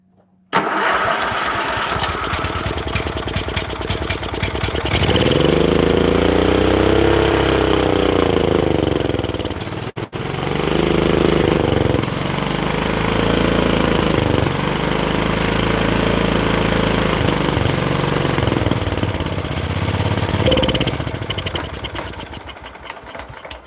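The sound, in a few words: 1973 Harley-Davidson Super Glide motorcycle engine idling after carburetor work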